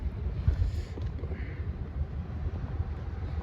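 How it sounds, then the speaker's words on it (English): Outdoor wind gusting against a microphone, a continuous low rumbling buffet with uneven surges that fills the whole stretch, with no voices over it. "it's like it's getting a little bit windy"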